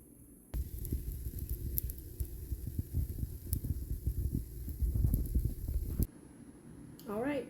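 A low-carb keto dish sizzles steadily while cooking in a pan, a continuous crackling hiss that starts abruptly, runs for several seconds, then cuts off to quiet.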